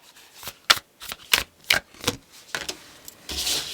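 Tarot cards being shuffled by hand, a series of crisp riffling bursts at an uneven pace, close and moderately loud, ending in a longer rustling sweep.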